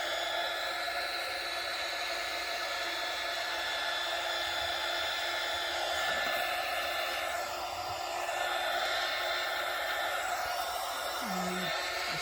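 Dryer blowing on freshly painted DIY project, a steady loud whooshing hiss running without break, with faint background sounds and no talk.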